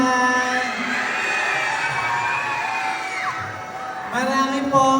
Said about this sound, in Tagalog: Wala rin po ba hiyawan dyan?